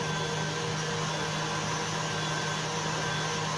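Stand mixer running at reduced speed while mixing pão de ló batter, a steady continuous whirring drone at moderate volume with no talking.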